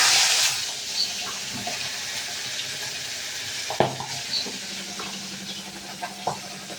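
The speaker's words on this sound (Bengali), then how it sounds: "এই তেলটা গরম হয়ে গেছে, এবারে আমি তেলটা গরম হয়ে গেছে এর মধ্যে মাছের মাথাগুলোকে আস্তে আস্তে ভেজে নেব" Fish heads sizzle gently in hot oil, with a soft, continuous hiss and a few small pops and crackles nearby.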